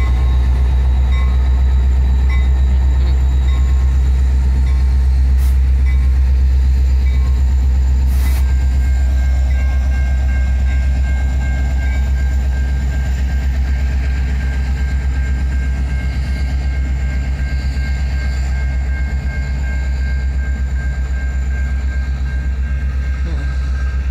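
Illinois Central 1003, a freight train in Effingham, Illinois, stops and then backs up, with a steady loud rumble of railcars and wheels filling the whole stretch, plus faint squeals and clanks over it.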